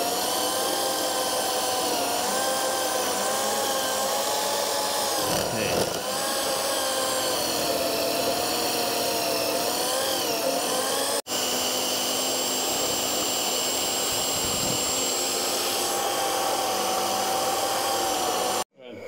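A portable band saw cuts through the steel housing of a Dana 60 axle with a steady, loud whining grind, broken by a brief pause near the end.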